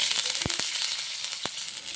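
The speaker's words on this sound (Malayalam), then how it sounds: "കടുക് പൊട്ടി വരുന്നുണ്ട്." Mustard seeds splutter in hot oil with a soft continuous sizzle, broken by a few sharp isolated pops and crackles; the whole sound is fairly quiet and close.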